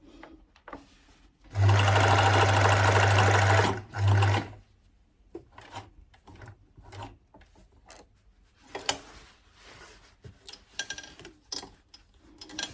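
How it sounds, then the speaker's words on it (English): A mechanical sewing machine hand wheel turned by hand while sewing denim gives a loud, steady mechanical whirr for about two seconds, then a short burst, followed by scattered soft clicks and ticks. "I do hand wheel just to check that I'm turning in the right place."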